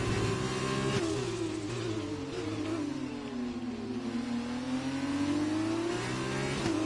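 A race car engine in the F1 2020 video game revs and accelerates out of a corner, a loud continuous whine that dips and climbs through the gears, with no speech over it.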